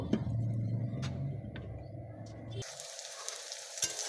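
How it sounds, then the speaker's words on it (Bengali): Vegetables such as potato and pointed gourd frying in oil in a kadai; a low, steady sizzle with a few ticks and clicks, then the tone shifts to a thinner, brighter crackle partway through, fairly quiet throughout. "কড়াইয়ে তেল দিয়ে সবজিগুলো সব ভেজে নেব"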